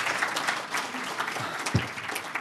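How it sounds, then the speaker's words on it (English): Audience at an event gives a round of applause for magicians, a steady wash of clapping at moderate distance, with a couple of low thumps near the end. "round of applause for these guys doing magic."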